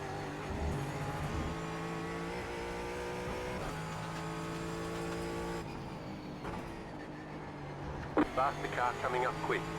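Cars in an iRacing sports car race at Brands Hatch hold a steady engine drone, a faster car's motor rising in the mix as it closes in, with talk over it and a few sharp bursts near the end.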